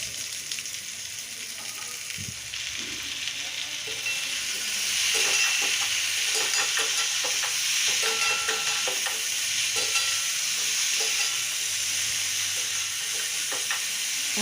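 Pointed gourd frying in a pan for a curry. A continuous sizzle swells midway, with intermittent stirring clicks and scrapes.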